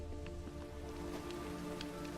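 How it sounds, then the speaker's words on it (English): Steady rain falling in The Witcher 3: Wild Hunt, a soft continuous patter with scattered droplet ticks over a low ambient hum, fairly faint. "It just rains and rains"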